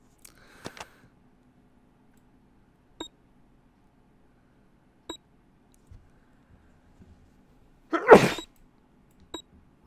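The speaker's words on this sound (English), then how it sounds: "Sorry, I sneezed" A single loud, close sneeze bursts out near the end, surrounded by quiet room tone with a few scattered faint clicks and short beeps, during a play session of Escape Simulator.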